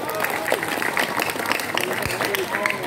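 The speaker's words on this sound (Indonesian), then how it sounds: "Tepuk tangan dong buat kita semua" A crowd at a pre-Ramadan Islamic religious gathering claps steadily, a dense wash of hand claps with voices mixed in, moderately loud throughout.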